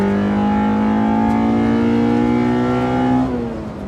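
A B18C engine in a JDM ITR-swapped 2000 Honda Civic Si revs hard toward its redline with a loud, high, rising wail. It holds near the top for about three seconds before easing off, heard from inside the car.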